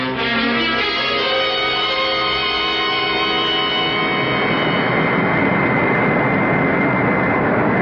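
Jet airplane engine sound effect in a radio drama, a loud sustained roar with a falling whine that settles into a steady rushing drone, with no voices.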